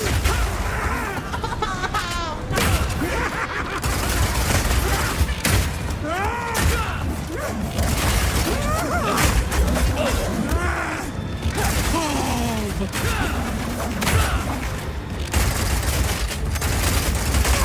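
Rapid gunfire and mechanical clatter from the video game Path of Exile 2 fill a dense, loud barrage of bursts and impacts, with voices shouting intermittently over the combat.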